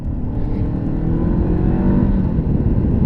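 A 2016 Honda CBR500R motorcycle engine revving while ridden, a steady, loud, deep drone that rises slightly in pitch and stays close throughout, with no talking.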